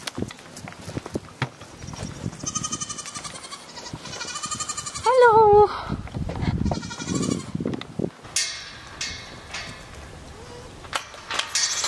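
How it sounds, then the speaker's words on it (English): Goats bleat in a farm pen with bedding shavings, several wavering calls close by amid footsteps, rustling and handling noises, with a brief greeting spoken. "let's go over and see the goats."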